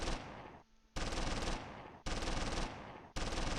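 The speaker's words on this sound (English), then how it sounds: "Good shots, Brunner. Keep firing." Close Combat III wartime gunfire rattles in three bursts of rapid machine-gun fire, each about a second long, loud and close, separated by brief near-silent gaps.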